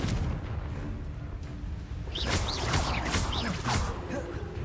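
The Confringo blasting spell explodes in Hogwarts Legacy amid combat, a steady roaring rumble with crackling booms and bright whistling chirps flaring up in the second half.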